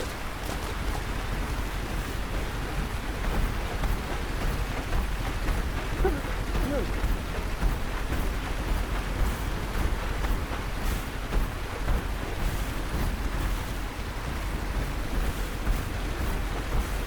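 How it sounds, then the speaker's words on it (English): Heavy, loud rain pours steadily in the video game Lightyear Frontier, a dense continuous hiss that stays constant from start to finish with no clear breaks. "I do like the rain sound. That's a very, very good rain sound. It's a loud rain sound."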